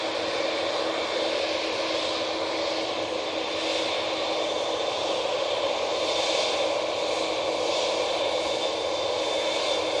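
A TUI airliner moving at Manchester Airport, a steady, broad engine roar and whine heard from a distance, constant in level throughout with no talk.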